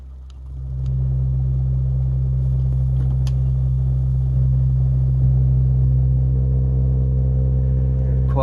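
A loud, steady 55 Hz test tone booms through a speaker that has just been switched on, rising over the first second and then holding as a deep continuous drone.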